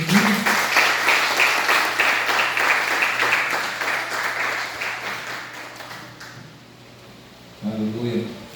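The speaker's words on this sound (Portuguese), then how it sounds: "Você pode aplaudir o Senhor Jesus" A church congregation at an evening men's society service applauds, an even, fairly loud wave of clapping lasting about six seconds that fades out before a voice begins speaking.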